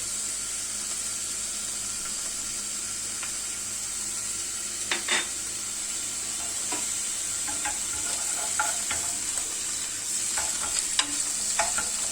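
Chanterelle mushrooms and a clove of garlic fry in a pan with a steady, even sizzle and hiss. Occasional soft stirring clicks and scrapes come through up close, and no one speaks.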